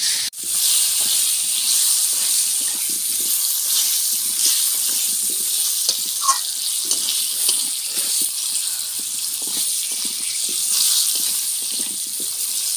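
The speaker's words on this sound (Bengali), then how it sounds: "ততক্ষণ আমি আলুটা ভেজে নিই ভালো করে" Steady, bright sizzling hiss of potatoes frying in hot oil, continuous and fairly loud throughout, with faint clinks and movement underneath.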